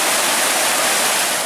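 Tahquamenon Falls in Michigan, a cascading waterfall, roars as a steady, dense broadband rush of water, loud and close with no other sounds.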